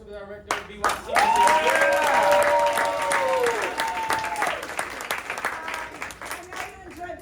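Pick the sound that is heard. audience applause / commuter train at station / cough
audience applause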